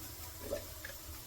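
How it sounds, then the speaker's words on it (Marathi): A spoonful of water is poured into a spice mix while cooking a kurdai bhaji, giving a faint, brief trickle against quiet kitchen background. "मिक्स करताना अगदी थोडंसं पाणी घालते इथं चमचाभर पाणी"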